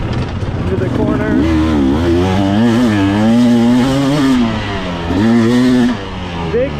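A 2024 GasGas enduro motorcycle engine revs loud and close as the rider downshifts into a corner, the pitch rising and falling in quick blips with wind noise behind.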